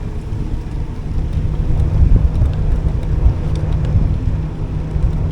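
Headwind buffeting the microphone while cycling uphill, a loud continuous low rumbling roar with gusty swells and no talk.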